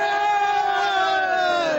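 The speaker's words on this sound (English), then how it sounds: "Let's have a cheer for the side." Notts County football supporters at Wembley let out a loud, sustained crowd cheer, a massed roar of voices held for a couple of seconds close by.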